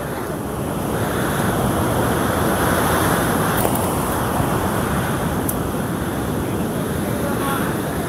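Surf rolls onto the beach at Pantai Karang Gantungan, Sukabumi, in a continuous loud wash of breaking waves with wind buffeting the microphone, no voices present.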